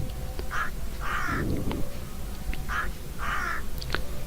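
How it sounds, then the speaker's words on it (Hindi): A crow caws four times in two pairs of harsh, nasal calls, fairly near, with a short rustle between the pairs. "आपने आवाज पहचान ली होगी, कौवे की आवाज है।"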